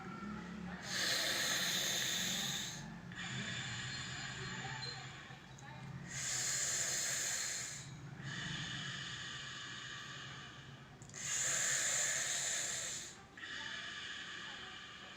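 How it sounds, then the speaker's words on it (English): Three long hissing inhalations through clenched teeth during Sadanta pranayama breathing, each lasting about two seconds, with quieter exhalations through the nose between them, close and clear. "Sadanta is you have to clench the teeth and inhale through mouth and exhale through nose"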